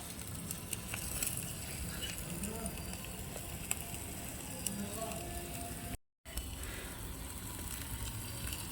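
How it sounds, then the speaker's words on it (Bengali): Miniature potato chops frying in a tiny toy pan make a continuous faint sizzle and crackle, even and steady throughout with one brief dropout near the end. "বন্ধুরা আমাকে তো ভাজতেই হবে ওর জন্য, ভয় লাগলেও ভাজতে হবে।"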